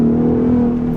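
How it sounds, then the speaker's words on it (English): A 2021 Ford F-150 Raptor's engine accelerating hard, a loud, close, steady drone with a strong tonal hum throughout the brief stretch. "Ooh, even a little bit of a crackle there from the exhaust."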